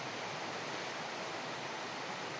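Peeled pointed gourd (potol) rubbed with salt and turmeric sizzles in hot oil in a home kitchen, giving a steady, even hiss with no talk.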